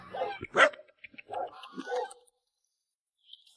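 A dog barks in short sharp bursts at a remote home perched high on a mountainside, a few close yaps and woofs followed by quiet and a faint distant call.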